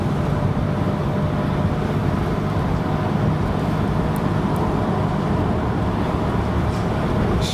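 A 1991 Buick Reatta driving on a bumpy road, heard from inside as a steady, loud rumble of road and engine noise with a constant low drone and no talk.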